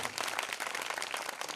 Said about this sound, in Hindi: एक बार जोरदार तालियां बजाओ इनके लिए जी।